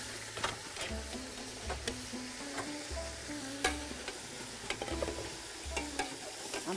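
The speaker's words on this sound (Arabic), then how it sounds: "بحمر اول البصل شويه فيه" Onions frying in a cooking pot for chicken majboos, a soft sizzle under stirring scrapes and scattered clicks, with a faint repeating low hum alongside; no one speaks.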